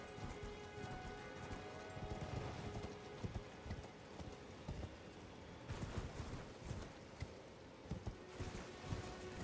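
Horse hooves pound in a steady, rapid galloping rhythm in the Elden Ring video game, loud and continuous over a rain-like hiss of ambient noise, with no talking.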